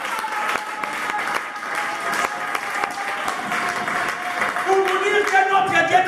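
A church congregation breaks into sustained applause acclaiming the Lord, a dense steady clapping from a large crowd with a voice speaking over it.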